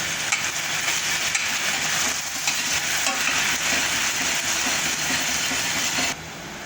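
Finely chopped onion sautés in hot oil with mustard seeds, cumin and a pinch of asafoetida for a capsicum sabzi, producing a steady close sizzle with frequent scraping and stirring against the pan.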